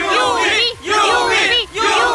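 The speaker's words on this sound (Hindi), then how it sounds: "यहाँ पर इतनी भारी बारिश होने के बावजूद भी भीड़ कम नहीं हो रही है" A crowd of fans waits in heavy rain for a superstar, shouting together in loud, rhythmic bursts of cheering that repeat three times with brief gaps between.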